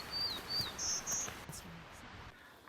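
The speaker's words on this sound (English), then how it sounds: "I can hear the Townsend's warbler, but he's kind of hard to see in this dark, thick forest." A Townsend's warbler sings in a dark, thick conifer forest beside a stream, its thin, buzzy high notes repeated in short phrases over a soft background of insects and rushing water.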